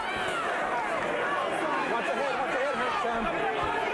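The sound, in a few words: boxing crowd reacting to a big right hand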